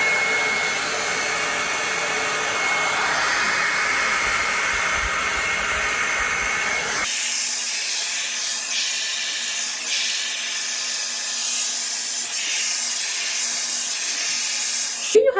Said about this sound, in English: This dryer is so hot.